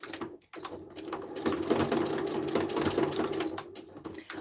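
A sewing machine stitches rows of sequins onto fabric, running in a steady, fast, close mechanical whir after a short pause near the start, with no one talking.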